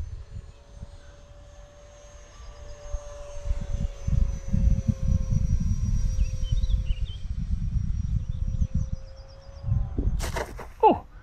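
A Viper jet lands in a flight video game: a low engine rumble swells and throbs for several seconds, then fades, and a sharp impact clatter follows near the end. No one talks.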